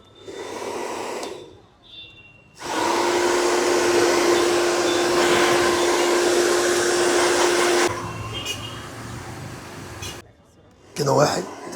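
A household vacuum cleaner switches on and runs with a loud, steady roar and whine for several seconds, then cuts off; short bursts of talking come before and after it.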